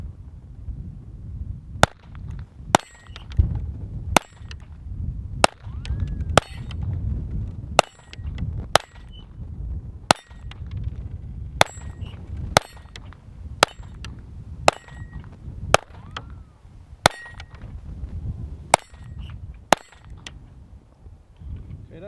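Taurus TX22 pistol firing Thunderbolt .22 rounds at a range, a string of about sixteen sharp cracks at irregular intervals over a steady background, loud and close.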